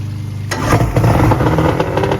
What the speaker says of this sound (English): I got the motor started, but she's a high rever